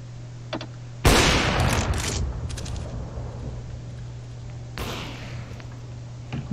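Sharp bursts of gunfire crack out in quick succession over a steady low hum, with a second volley a few seconds later, from Counter-Strike gameplay.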